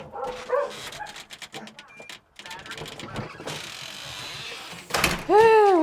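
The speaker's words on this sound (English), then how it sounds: "Look at how excited these dogs get." Excited dogs bark and yip in scattered bursts, mixed with talking and car noise, ending in a louder rising whine.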